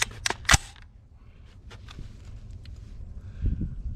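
An unsuppressed 300 Blackout rifle fires a subsonic round outdoors, giving a loud, sharp crack with a few quick, close reports at the start, then a quieter rustling tail.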